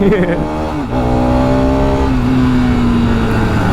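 A modified Bajaj Pulsar RS200 motorcycle engine revs up under load, its tone climbing steadily as it accelerates, loud and close with continuous engine drone throughout.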